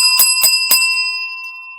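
A game-show style bell rings three times in quick succession, bright and sustained with a long ringing tail, marking an answer during a lighthearted talk show.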